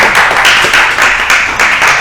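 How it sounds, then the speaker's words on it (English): An audience at a live news show in a tavern claps together in a loud, close burst, the hand claps falling into a quick, steady rhythm. "We can clap it out."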